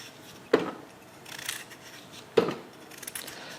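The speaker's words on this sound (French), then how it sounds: "on va les couper en gros morceaux." Two separate knife cuts through large raw potatoes, each a short crisp chop with a brief scraping trail, about two seconds apart and close by, with no talking.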